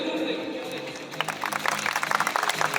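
An audience at a stage event breaks into clapping partway through, a rising patter of hands following a stretch of talk, with voices continuing over it.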